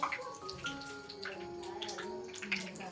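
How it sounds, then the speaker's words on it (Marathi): Water poured over country chicken cooking in a pot on a traditional wood-fired village stove, a steady close splashing and trickling pour running throughout, fairly quiet with no talk. "चला हे बघा थोडस आता वरून पाणी ऍड केलंय"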